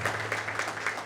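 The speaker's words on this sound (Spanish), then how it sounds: "les pido un fuerte aplauso" Audience applause in a community gathering offering emotional and psychological support to Venezuelans in Bonaire, a steady, dense wash of clapping held at an even level throughout, with no voices over it.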